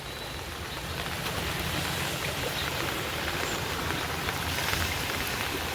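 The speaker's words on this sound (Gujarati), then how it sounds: "બાસડા ગામમાં ધોધમાર વરસાદ, તો નદી બે કાંઠે" Heavy downpour over Basada village during a minor storm, a steady dense hiss of rain on surfaces with low rumble beneath, continuous and fairly loud throughout with no voices.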